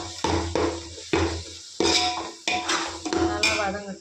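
Ginger garlic paste sautéing in a pan for chicken biryani, with repeated metal clanks and scraping of a spoon stirring against the pot, in irregular bursts over a faint sizzle.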